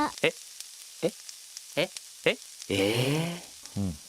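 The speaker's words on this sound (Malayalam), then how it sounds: "അതിൻ്റെ അകത്തോട്ട് പാനിൻ്റെ അകത്തോട്ട് എണ്ണ ഒഴിച്ചിട്ട് അതിൻ്റെ അകത്തോട്ട് ഫസ്റ്റ് കുറച്ച് മസാല, അതായത് മഞ്ഞൾപ്പൊടി, മുളക് പൊടി, ഗരം മസാല" Turmeric, chili powder and garam masala frying in hot oil in a pan, a soft sizzle running beneath intermittent voices talking in short bursts nearby.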